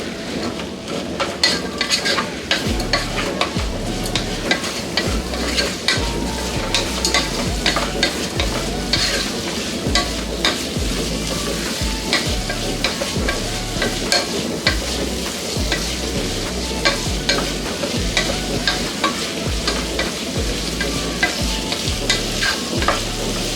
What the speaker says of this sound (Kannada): ಇದೆಲ್ಲ ಹಾಕ್ಕೊಂಡು ಮಿಕ್ಸ್ ಮಾಡ್ಕೊಳ್ಳೋಣ.